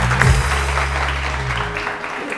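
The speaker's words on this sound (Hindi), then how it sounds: "आप सब के लिए एक मरतबा फिर बहुत सारी तालियां।" Studio audience applause on a TV morning show, a continuous wash of clapping over a low steady hum, fading slightly toward the end.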